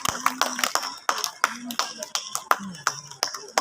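Scattered, sharp claps ring out in a formal auditorium gathering of senior finance officials, sparse and uneven rather than a full ovation, with a voice speaking between them.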